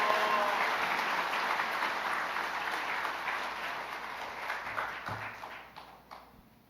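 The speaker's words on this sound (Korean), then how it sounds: "우리 선교사님을 큰 박수로 맞이하도록 하겠습니다" A church congregation claps together to welcome a visiting missionary: a dense, steady round of applause that slowly fades over several seconds.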